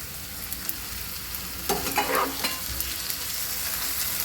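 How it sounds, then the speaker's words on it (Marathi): Onion and tomato being sautéed in a pan for a home-style chickpea (chana) bhaji, a soft steady sizzle with a brief louder burst of stirring near the middle, with no talking. "ते आपण परतून घेणार आहोत"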